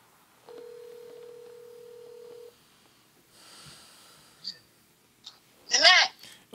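A telephone line gives one steady ringing tone lasting about two seconds, clean and moderately loud, followed by soft breathing, faint clicks and a brief burst of voice.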